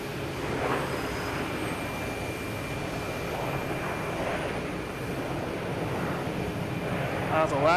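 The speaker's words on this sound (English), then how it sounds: "That's a loud plane right there." An airplane at Boston Logan Airport gives a loud, steady jet roar that stays close and fills the whole stretch, swelling slightly near the end.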